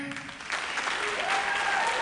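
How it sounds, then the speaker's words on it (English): A live audience claps in a steady, close, continuous round of applause that builds slightly toward the end. "clap if you got kids somewhere"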